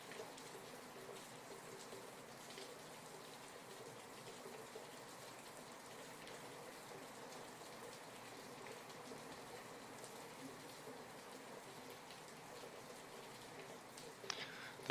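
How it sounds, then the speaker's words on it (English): Steady, faint rainfall with a soft continuous hiss and patter, unbroken and even throughout, with a small sharp sound at the very end. "I'm sure these rain sounds aren't helping you with the sleepiness."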